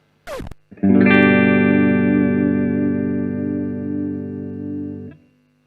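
A Jackson JS32-Q Dinky electric guitar on its clean tone rings out with one sustained strummed chord that fades over about four seconds, preceded by a short pick scrape.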